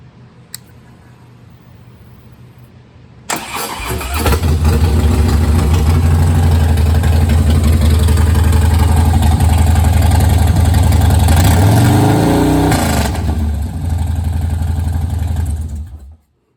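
A 2014 Harley-Davidson Softail Slim with Bassani exhaust and a big intake starts after a quiet moment, then idles with a loud, deep, throbbing rumble and revs up once before cutting off abruptly at the end.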